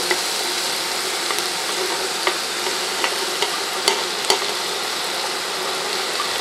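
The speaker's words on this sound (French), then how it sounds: "Alors, justement, on va rajouter nos courgettes." Garden courgettes fry in a pan for homemade ratatouille, a steady bright sizzle with occasional small pops and crackles, close and even throughout.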